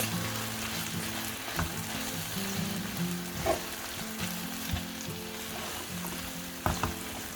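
Plant-based mince frying in a pan for a meat-free lasagne, a steady close sizzle broken by scraping spoon strokes as it is stirred, with a couple of louder knocks near the end.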